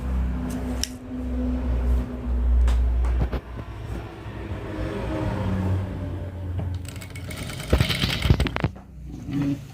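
A sewing machine stitches fabric with a steady, close mechanical whirr that runs through most of the stretch. Brief clicks and handling noises come near the end.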